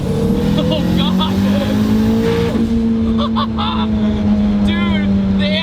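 A 707 hp turbocharged Toyota MR2 engine drones and rises in pitch close by, with sharp pops and crackles from the anti-lag system in the exhaust and people talking over it.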